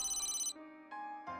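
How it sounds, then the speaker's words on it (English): A cell phone in a visual novel video game rings with a short electronic ringtone, a bright tone followed by a few stepped chime notes, clear and alone. "Hey, Tsubaki, your cell phone is ringing."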